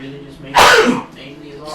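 A single sharp sneeze bursts out loud and close in the middle of casual indoor talk, with voices speaking just before and after it.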